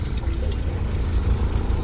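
Water runs from the tap in a Ram ProMaster conversion van, a steady broadband rushing and trickling heard close for the whole stretch, with no talking over it.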